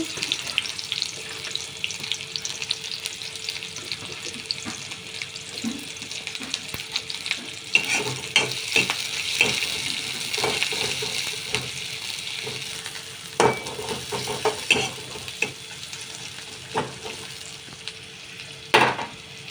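Onions frying in a pan for fish egg curry, stirred now and then: a steady bright sizzle runs throughout, broken by sharp scraping and knocking strokes of the utensil, close and fairly loud, with no talking.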